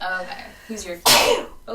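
One sudden, loud sneeze bursts out in the middle of a casual conversation, with people talking just before and right after it.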